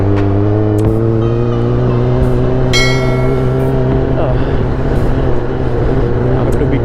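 A Kawasaki Ninja ZX10R motorcycle ridden at low throttle, running jerky: a loud, close, steady engine drone with strong tonal harmonics throughout, and a brief higher rattle partway through.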